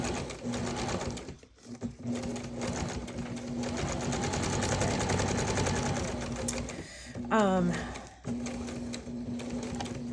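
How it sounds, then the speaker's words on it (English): A sewing machine runs steadily, stitching a zigzag around the edge of a paper journal tag, its motor whirring close up with a constant hum, while someone talks over it and a brief chirping sound cuts in near the end. "I love a good zigzag stitch on."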